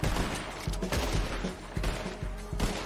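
Gunfire in Red Dead Redemption 2 Online, a rapid series of sharp, loud shots cracking one after another over roughly three seconds.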